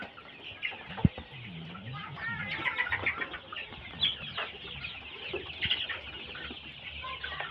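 About one-and-a-half-month-old chickens weighing around 500 g, including young roosters, cluck and chatter continuously on a Murshidabad poultry farm, with overlapping near and far calls and one sharp knock early on.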